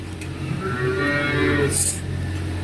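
A cow at a livestock market lets out a single long, fairly close moo that rises and holds, over steady low background noise and murmur.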